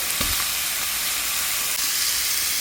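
Steady sizzling hiss of butter frying in a pan, continuous and close, with a few faint clinks early on.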